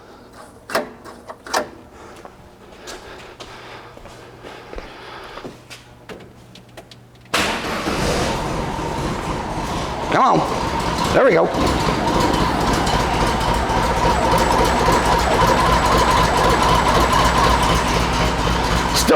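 A 1971 VW Squareback with dual carbs and an electric fuel pump cranks several times, catches, and settles into a loud, steady idle, while a person speaks briefly before it starts.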